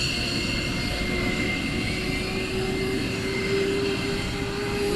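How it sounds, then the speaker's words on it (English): Military jet engine roar from RAF Lakenheath as F-15E jets prepare to depart with afterburners, a steady, loud broadband rumble holding throughout without talk. "the E's are just about to go, so we're going to get a couple with reheats on"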